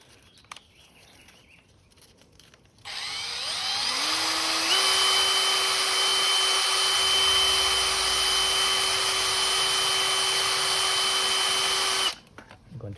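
A power tool spins sandpaper against a Honda SH150i scooter's brake caliper piston, whining steadily at close range for about nine seconds after a quick ramp-up in speed, then cutting off abruptly.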